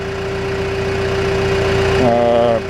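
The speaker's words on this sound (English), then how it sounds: "Idle back to minimum speed. It does just fine. 900 RPM." A John Deere 310G backhoe diesel engine idles at a low 900 RPM, a steady near rumble with a faint hum that rises briefly toward the end; the machine has an unresolved fuel system problem.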